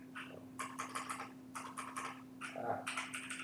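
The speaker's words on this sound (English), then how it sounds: "The keyboard." Quick bursts of keystrokes on a computer keyboard come in uneven clusters with short pauses. The typing is fairly quiet, over a faint steady electrical hum.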